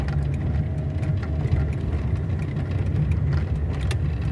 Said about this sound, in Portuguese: E ele tem um barulhinho no motor.